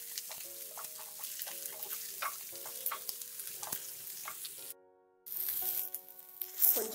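Okra being sautéed and stirred in a pan, a steady frying hiss broken by repeated scraping stirs, with a short drop to near silence partway before the sizzling returns louder.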